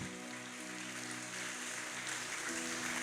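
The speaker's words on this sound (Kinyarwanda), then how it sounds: "Twongere dukomere Imana amashyi menshi menshi menshi." Dense, sustained clapping from a large crowd at a church worship service fills the space, with faint steady musical tones underneath.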